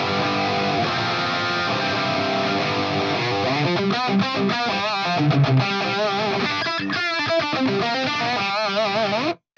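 A loud, distorted electric guitar played through a NUX Tape Core Deluxe pedal plays sustained chords and then a wailing solo line with bends, fuzzy and saturated throughout.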